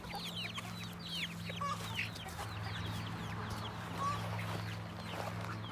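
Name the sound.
Cochin bantam chickens clucking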